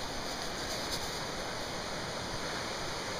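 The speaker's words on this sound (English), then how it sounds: "See, the water's flowing over the road." Cold water streams over a flooded road in a steady, broadband rushing wash, constant and fairly loud with no talking.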